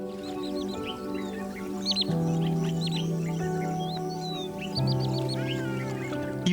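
Wood sandpipers calling on the Liuwa Plains of Africa, a scatter of quick, sharp chirping notes repeating over a steady low tonal drone.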